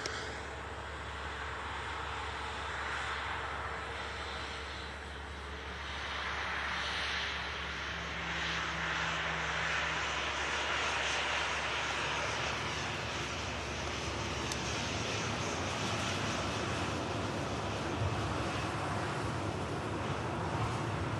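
Aegean airliner taxiing at Manchester Airport: a steady, broad jet engine roar at a moderate distance that swells slightly partway through, with some wind noise and no voices.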